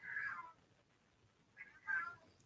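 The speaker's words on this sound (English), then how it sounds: "Even the cat is hollering at me." A cat meows loudly twice, one drawn-out cry at the start and another after a short quiet gap, fairly close in an otherwise hushed room.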